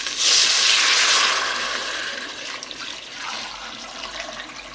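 Vegetable stock is poured into a stew pot with a loud liquid gush that slowly fades into a softer swirl and trickle.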